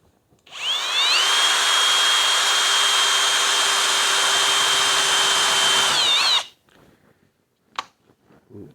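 A Kobalt 24V driver/drill with a spade bit whines up to speed and bores steadily into wood for about five seconds with a loud, even buzz, then winds down, followed by a few faint knocks and handling sounds.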